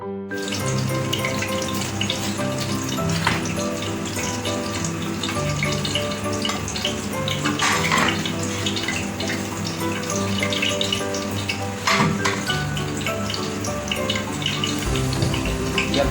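Water is poured into gram flour batter with chopped potato and other ingredients and then mixed. A steady, loud wet rush and swishing runs throughout, close up, with no talking.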